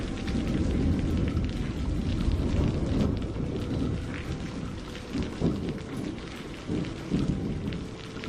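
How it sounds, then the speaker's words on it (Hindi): Heavy rain pours continuously in a dense roar, with deep rumbling thunder rolling beneath it throughout. "बारिश अब और भी तेज होती जा रही थी।"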